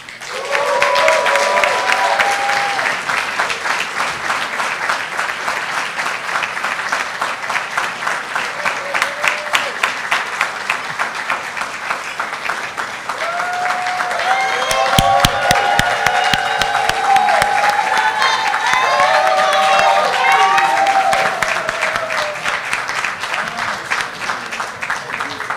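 A gala audience at the Center for Black Equity awards applauds steadily for about twenty-five seconds, a dense wash of clapping that swells midway with some cheering.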